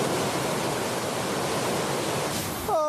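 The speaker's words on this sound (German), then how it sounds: "Du meine Güte, das ist ein gewaltiger Wasserfall." A large waterfall in Madagascar roars as steady, dense broadband rushing water throughout, loud and continuous, with a few brief tonal chirps near the end.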